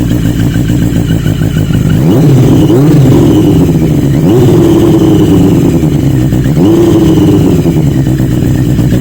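A motorcycle engine idles loudly up close, then is revved several times, each rise in pitch falling back to a steady throb.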